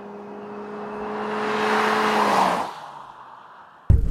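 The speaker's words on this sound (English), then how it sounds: "I'm just flooring it." A 2013 Ford C-Max Energi plug-in hybrid accelerates at full throttle, its engine and electric motor whining and droning louder for a couple of seconds, then easing off. A sharp thump follows near the end.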